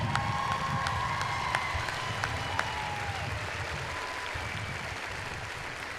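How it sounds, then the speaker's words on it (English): Graduation audience of the Oak Harbor Public Schools class applauding steadily, a broad sustained wash of clapping with some cheers and whistles rising above it, moderately distant and filling the hall. "let's give them a round of applause"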